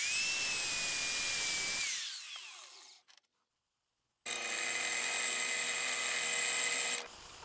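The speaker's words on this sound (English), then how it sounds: "Kmart brand grinder. Only the best." A Kmart-brand angle grinder cuts a metal rod: a loud, high whine winds down over about two seconds, then falls silent, and a second steady, harsh cutting burst runs for about three seconds before stopping abruptly.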